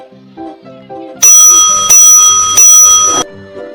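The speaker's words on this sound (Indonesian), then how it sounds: "bel masuk pun berbunyi." A school entry bell ringing at the start of the school day, a loud bright metallic ring in three sustained bursts, preceded and followed by soft chiming tones.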